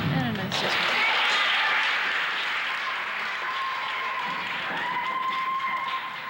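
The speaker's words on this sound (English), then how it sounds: "receives nice applause from her teammates and friends" Applause from teammates and friends at a 1985 high school girls' gymnastics meet between Cherry Hill West and East, a sustained wash of clapping right after a dismount, steady and fairly loud in a gym, fading slightly toward the end.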